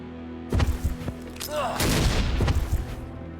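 A video game explosion in Ashes Afterglow, a sharp blast followed by rumbling booms and scattered impacts continuing for a couple of seconds at fairly low volume.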